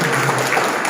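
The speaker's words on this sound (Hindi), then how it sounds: "जोर से ताली बजाएं।" A large audience claps loudly and continuously at a spiritual class led by BK Ram Singhal, the applause forming a dense, even wash with no single claps standing out.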